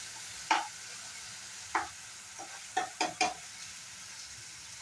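Cut potatoes cooking in spices for a banana stem dish, a steady low sizzle broken by several scraping spatula stirs against the pan, close and clear, no voices.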